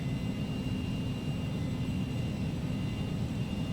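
Jet engines of a Carenado Cessna 525A Citation CJ2 in Prepar3D run at takeoff power, a steady loud roar with a broad rumble and high whine, with no speech.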